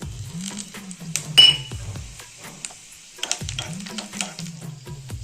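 Cinnamon stick and cloves dropped into hot ghee in a pan, with a soft sizzle, metal clinks and stirring scrapes, plus a low humming drone in the background.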